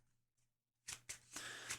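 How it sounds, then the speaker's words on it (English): A deck of game cards is shuffled close by after a near-silent pause: two quick riffling bursts followed by a longer continuous riffle, crisp and fairly loud. "We have to shuffle up."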